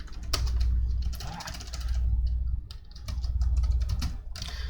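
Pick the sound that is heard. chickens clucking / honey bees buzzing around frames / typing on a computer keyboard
typing on a computer keyboard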